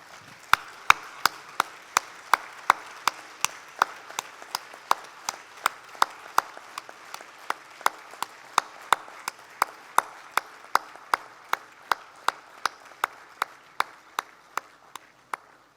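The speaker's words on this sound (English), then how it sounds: "let's give another round of applause, a standing ovation to Shri Nadir Godrej ji" Clapping at a management conclave, honouring Shri Nadir Godrej with a standing ovation, comes as sharp, evenly spaced claps in a steady rhythm of about two per second, running for the whole stretch over a faint room murmur.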